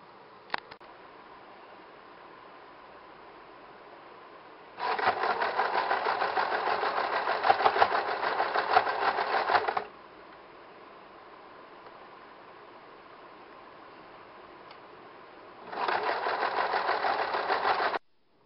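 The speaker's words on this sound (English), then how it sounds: "lay one over the other and just run a stitch up between them." A sewing machine runs a stitch joining two fabric ruffles for a ruffle scarf, in two steady whirring bursts of about five seconds and two seconds, separated by a quiet pause, close and fairly loud.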